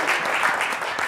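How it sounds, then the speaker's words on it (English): Brief audience applause after a talk on the transit of Venus, a dense, steady patter of many hands clapping at close range with no voices over it. "How about a clap for Adele?"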